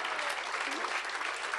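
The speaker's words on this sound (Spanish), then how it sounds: "Un aplauso para David!" An audience at a university event in the philosophy and letters faculty claps in a brief, dense burst of steady applause, heard alone without speech.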